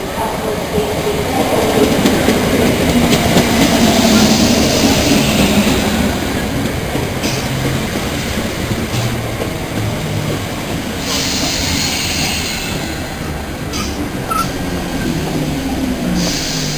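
A train runs through Stratford station with a loud, steady rumble and rail clatter that fills the whole stretch, while a voice is faintly heard in the background.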